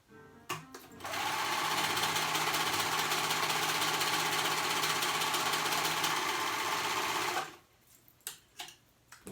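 A sewing machine stitches the side seams of a child's small shorts, running in one steady, loud mechanical whir for about six seconds, with brief handling noises before and after.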